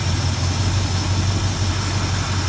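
A 1986 Chevrolet K20 truck engine with new plugs and wires and a rebuilt Edelbrock carburetor idles steadily, a loud, even low rumble with no talking.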